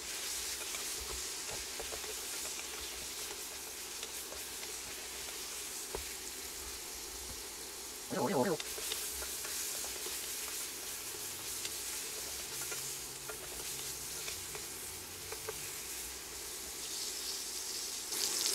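Spicy sausages brown in a hot pan with a steady, close sizzle and frying hiss that runs throughout, broken by one brief clatter partway through.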